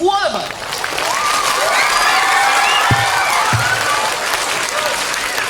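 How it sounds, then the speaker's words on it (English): Sustained applause from a large graduation ceremony crowd, steady and fairly loud throughout, with scattered cheers and whoops rising above the clapping. "I want you to give a big round of applause to all of us."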